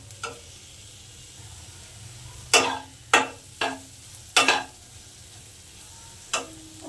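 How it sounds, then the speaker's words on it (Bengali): Lentils (dal) frying in spiced oil in a pan give a low, steady sizzle, broken by about six sharp scraping stir strokes at uneven intervals, close and clear. "ডালটা ভেজে দিলাম।"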